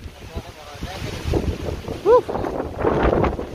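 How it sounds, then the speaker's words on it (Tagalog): Strong wind gusts rushing against the microphone in waves under a tamarind tree, with a short excited shout in the middle and some speech around it. "Saka lakas ng hangin"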